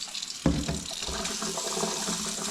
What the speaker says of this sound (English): We rinse them underneath some water.